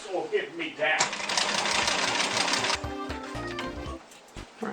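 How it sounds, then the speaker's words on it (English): An old, poorly running sewing machine whirs loudly in a rattling burst of stitching, then slows into uneven clunks, with brief voices in the background. "if your sewing machine sounds like that, take it to a service"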